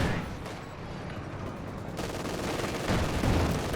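Anti-tank guns fire in a Company of Heroes 2 battle among a dense, rumbling mix of gunfire and explosions that swells louder toward the end, with no voices.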